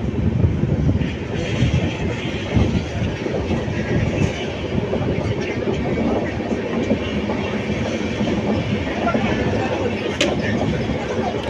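Passenger train between Salem and Bangalore heard from inside, a steady loud rumble with rhythmic wheel clatter throughout.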